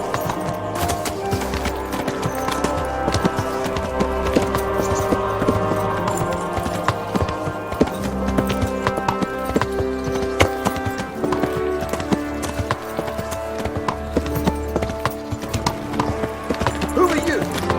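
Horse hooves clip-clop steadily and continuously in Kingdom Come: Deliverance, a loud, dense gait running under game music and voices throughout.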